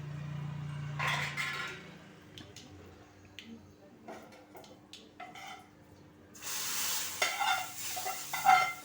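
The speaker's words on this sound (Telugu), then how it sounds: "ఇప్పుడు ఇందులో పోపు వేసేద్దాం" Oil sizzles sharply as a tempering of spices hits a hot pan, with scattered stirring clatter, then a louder burst of frying crackle near the end.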